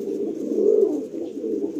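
A pigeon kept for breeding gives a low, close, throaty coo that rolls on continuously, swelling slightly in the middle.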